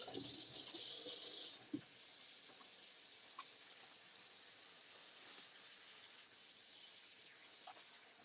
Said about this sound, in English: I'm just going to place my stencil into some water